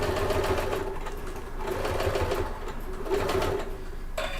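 A sewing machine hums in steady pulsing runs as it back-stitches at the start and end of a seam on a convertible bag, close and continuous with a brief click at the end.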